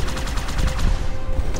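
A turret fires in Halo 2's Outskirts campaign level, a rapid, close stream of booming automatic shots with no gaps.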